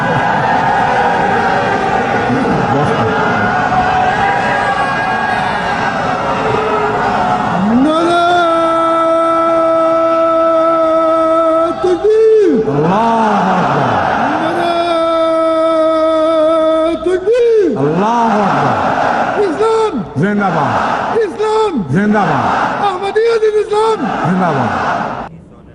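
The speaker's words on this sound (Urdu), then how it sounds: "اب لگا لو نعرے جتنے لگانا ہے" A large crowd at a religious gathering chants slogans in rhythmic, rising and falling call-and-response phrases over a loud, steady background murmur that continues throughout.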